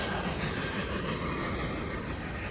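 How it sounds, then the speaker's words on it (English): A loud, steady rumble of a passing train fills the air, a continuous roar with no break and no voices. "The train's pretty loud"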